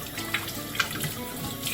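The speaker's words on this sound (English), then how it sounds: "turn the water back on my arm" Water runs steadily from a tap while hands are rinsed under it, a continuous close splashing hiss with small irregular splatters, no talking.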